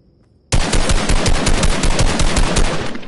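Rapid automatic gunfire in the video game Fortnite, a loud sudden burst of fast, evenly spaced shots starting after a brief quiet moment and continuing for nearly three seconds before tailing off.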